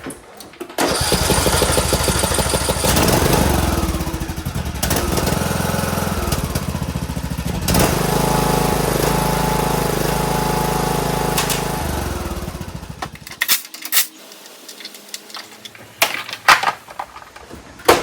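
Briggs engine on a John Deere D105 lawn tractor starts and runs with a loud, steady mechanical roar that holds for about twelve seconds, then cuts out, leaving scattered knocks and clatter.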